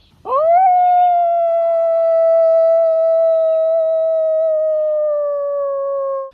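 A single long, wavering howl held steady for several seconds, loud and close, with a voice imitating a wolf.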